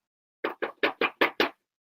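Six sharp knocks rap on a door in a quick, evenly spaced series, close and clear, with no other sound around them.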